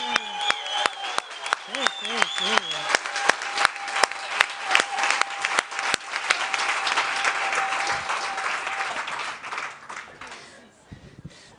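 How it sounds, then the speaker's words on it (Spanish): A conference audience at a Galician public health service event starts with separate rhythmic claps, then breaks into loud, dense applause that builds and fades out, with a brief spoken word over it. "Cuento hasta 3 y aplauso 10 fuerte, fuerte, fuerte, que lo escuchen hasta en la Xunta de Galicia"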